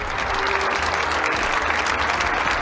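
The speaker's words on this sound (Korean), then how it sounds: "큰 박수 부탁드립니다" An audience applauds after a signing ceremony for a regional high-tech industry agreement in Korea, a steady, dense wash of many hands clapping at even loudness throughout.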